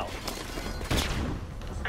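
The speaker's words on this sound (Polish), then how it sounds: "Flashbang out." Flashbang grenade in Call of Duty: Modern Warfare Remastered, a sharp loud burst near the middle standing out over ongoing gunfire and game sounds, with voices talking underneath.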